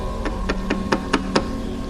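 Knocking on a door as a horror-story sound effect: six evenly spaced, fairly sharp knocks in a quick steady rhythm, heard alone over a constant low droning hum.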